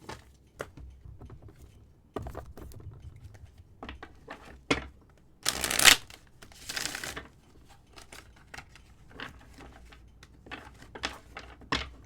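A deck of oracle cards is handled and shuffled close up, making a string of soft riffling flicks and taps. The sound peaks in a brief, louder burst of rapid card patter partway through, with no talking.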